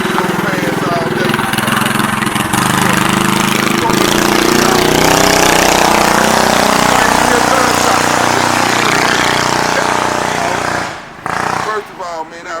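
A motorcycle engine runs steadily in a neighborhood setting in Jackson, Mississippi, a loud continuous drone with shifting pitch that drops away near the end, with people talking over it.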